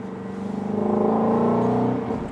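Shelby GT350 on a drive, a steady close engine drone with a rhythmic exhaust pulse that swells slightly as it pulls.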